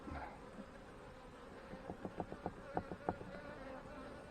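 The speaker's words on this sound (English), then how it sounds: "Pull this honey super off, shake the bees out." Honey bees buzz at close range as they are shaken out of a honey super, with a cluster of short buzzy bursts in the middle over a low hum.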